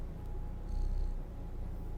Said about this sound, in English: can't help but purr softly